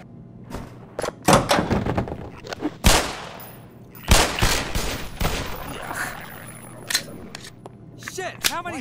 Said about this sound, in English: How many shots was that?